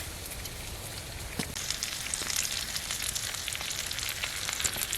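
Steak and potatoes frying in a pan inside a hot tent during a snowstorm camp, a steady close crackling sizzle with small pops, no talking.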